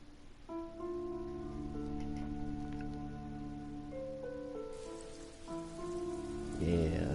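Steady rain falls outside, a continuous soft hiss that holds throughout under sustained tonal music chords, swelling slightly louder near the end.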